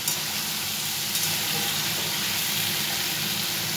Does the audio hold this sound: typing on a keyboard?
no